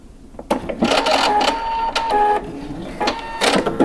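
A home sewing machine backstitches a short seam on lace underwear, its rapid mechanical stitching running in a few close bursts with brief stops between them.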